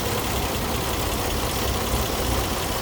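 A 1929 Chevrolet's 194 cubic inch inline six runs steadily at idle, a continuous close rumble with a faint knocking texture and no voices.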